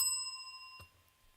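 A single bright bell tone rings out as a sound effect, sustaining and fading over about a second, followed by a faint soft knock; quiet overall with no talking.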